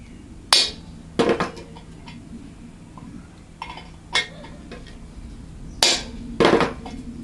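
A hammer strikes a transfer punch against a motorcycle rear fender to mark holes, giving sharp metallic taps in small clusters of one to three blows separated by pauses, close and ringing over a low background hum.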